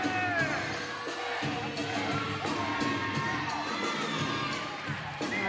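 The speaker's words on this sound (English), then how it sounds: "The crowd is loving it." Gymnastics meet crowd cheering and shouting after a routine, loud, with high-pitched youthful yells and whoops carrying on continuously over the arena.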